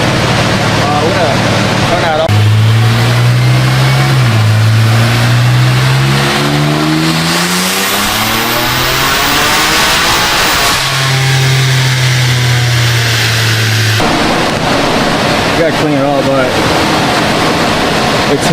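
A BMW S58 twin-turbo engine on upgraded twin turbos and port injection revs hard and loud, rising through the range, cutting out at the top, then pulling again in a second loud rev, with voices faintly underneath.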